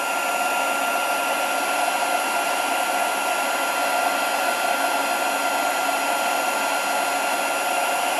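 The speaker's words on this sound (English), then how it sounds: "grab your heat tool. And for once you don't actually need it to be hot when you attack, but it's going to be noisy" Heat tool used unheated as a blower, held close to dry a craft piece, roaring as a loud, steady, unbroken airflow hiss from start to finish with no voices.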